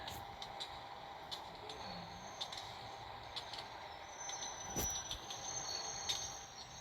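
An economy-class train ride in the Roblox game Incorail: a steady rumble of rolling wheels with faint squeals and occasional clicks, fairly quiet and continuous, with no talking.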